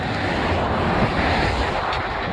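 Water rushing through a channel under a campground roadway at Deerlick Creek on Lake Tuscaloosa, Alabama, a steady, loud, close broadband roar with no talking.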